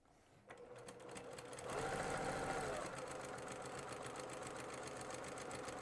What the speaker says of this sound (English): Sewing all the way through and back stitching.